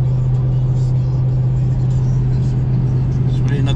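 Steady low drone and road rumble from inside a car cruising along a quiet little road, the engine tone holding even throughout with no pauses.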